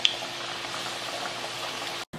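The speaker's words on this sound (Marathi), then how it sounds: "यांना असं उलट पालट करून चांगलं तळून घेऊ." Moong dal vadas fry in hot oil, giving a steady, dense sizzling hiss close by that runs unbroken except for a brief dropout near the end. No voices are heard.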